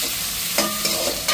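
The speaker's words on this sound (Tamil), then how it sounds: "அதோட பெரிய ஜீரகம் போட்டு மிக்ஸ் பண்ணிவிடும்" A utensil stirs a frying mixture in a pan just after fennel seeds go in, making a close, steady sizzle broken by three quick scraping strokes.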